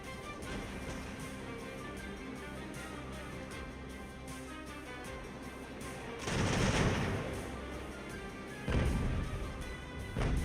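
Two heavy broadband cannon volleys of grapeshot from sailing warships in Ultimate Admiral: Age of Sail, booming out around 6 and 9 seconds over a steady bed of game ambience.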